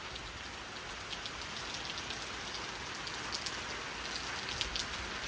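Steady rain falls in an afternoon storm, a dense even hiss of drops on surfaces with scattered brighter ticks of individual raindrops, continuous and fairly close with no voices.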